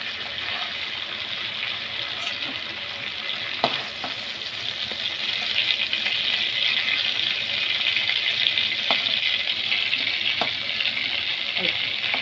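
Prawns sizzle steadily in hot oil for a chingri curry, a continuous close hiss with occasional clinks and scrapes as they are lifted out and strained.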